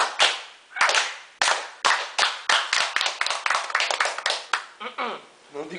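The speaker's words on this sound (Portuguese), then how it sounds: "Palmas com o Zé para Ciro" Sharp, close hand claps from a small group, at first spaced and uneven, then quickening into a rhythmic patter before a voice comes in at the end.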